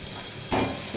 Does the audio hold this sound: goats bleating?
no